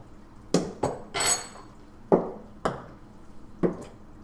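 A grape tossed in a kitchen strikes a fridge and bounces into a blender: several sharp, close knocks and clinks in quick succession, with no talking.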